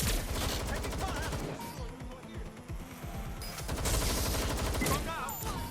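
Sustained automatic gunfire and bursts in the video game Watch Dogs during a firefight, loud and continuous with rapid rattling shots, brief lulls, and shouted voices mixed in.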